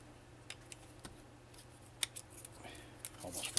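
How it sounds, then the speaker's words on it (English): Metal shears snipping while trimming a part during a 2006 Dodge Chrysler 48RE transmission valve body rebuild, a series of sharp close clicks and snips, quiet between cuts. "I have a metal shear"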